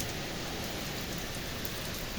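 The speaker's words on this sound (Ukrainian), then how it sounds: "Налетіло страшне. Гроза." Heavy rain from a sudden summer thunderstorm pours steadily in a dense, even roar that fills the whole clip, close and loud, with no voices.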